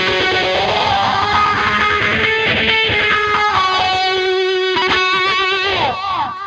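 Heavily distorted electric guitar plays sustained chords with a wavering, swirling modulation effect, loud and alone.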